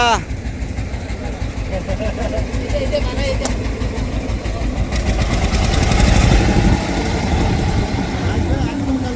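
A trawler boat engine chugs and rumbles steadily in the Sundarbans, swelling louder midway, with people talking faintly over it.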